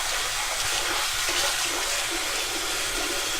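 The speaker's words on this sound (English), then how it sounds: "Run some warm water into your sink." Warm water runs steadily from a tap into a bathroom sink, a continuous close hiss and splash with no speech over it.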